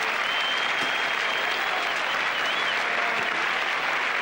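Sustained applause from a cricket crowd of about 7,500 at a 1988 Test match in Brisbane, marking Steve Waugh's dismissal, a broad steady wash of clapping heard from a distance with a faint whistle over it.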